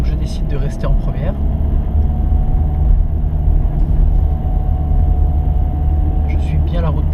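A car engine in first gear pulling up a hill, giving a steady close low rumble and drone throughout, with a person talking over it.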